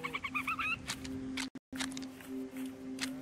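Chickens in the Lego Fortnite video game, a few soft clucks and bird calls that are faint and intermittent over a steady low tone, with no voices.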